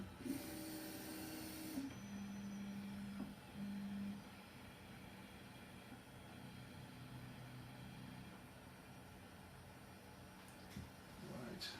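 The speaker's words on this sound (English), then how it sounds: "there you can see printhead's moving, so the software is taking over" The printhead of a Neptune 4 Max 3D printer moves, whirring in short stepper-motor tones over a steady fan hum, with a louder burst of noise at the start.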